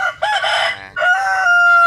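A Peruvian crossbred fighting rooster weighing about 3.5 kg crows loudly and close by, one full cock-a-doodle-doo call split into rising bursts and ending in a long held note.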